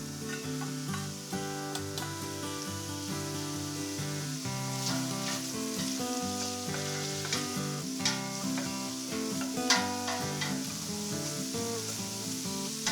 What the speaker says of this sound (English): I'll throw in the onions and fry those off for a couple of minutes